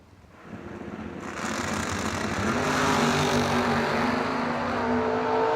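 Drag racing cars launch down a racetrack at a bracket nationals event, a low roar swelling quickly into a loud, sustained engine drone with rising tones, heard from nearby without any talk.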